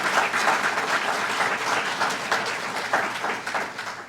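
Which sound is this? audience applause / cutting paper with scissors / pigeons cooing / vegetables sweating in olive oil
audience applause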